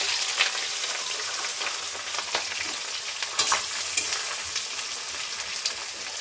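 Whole tomatoes and onions frying and being stirred in a pan of oil for homemade chicken curry, giving a steady close sizzle with scattered crackles and scraping clicks and no talking.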